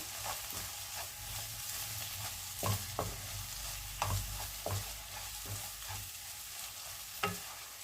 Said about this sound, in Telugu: ఇలా మొత్తాన్ని టమాటాన్ని, కారాన్ని ఇలా కలుపుకుందాము.